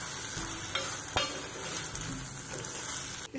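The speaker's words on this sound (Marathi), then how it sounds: "भेंडा आणि कांदा आपला मस्त असा परतून घ्यायचा आहे आणि त्यानंतर आपण घालणार कोलंबी" Okra, onion and prawns sautéing in a pan give a steady sizzle with scraping stirs throughout and a couple of sharp utensil knocks, close and fairly loud with no talking.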